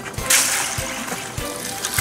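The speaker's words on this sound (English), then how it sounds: "Stick them in a slurry. Ice water." Spiny lobster tails dropping into an ice-water slurry: a few soft splashes and trickles of water with brief sharp plops, close and fairly quiet.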